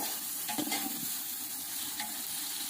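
Ingredients for chicken biryani sizzle steadily in a pan while a spoon stirs and scrapes through them, up close and with no talk.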